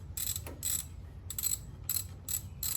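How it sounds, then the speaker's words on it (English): Ratchet clicking in short bursts while threading a spark plug back into a Briggs and Stratton engine on a John Deere riding mower, several quick rhythmic clatters separated by brief pauses, close and fairly quiet. "next, rethread your spark plug"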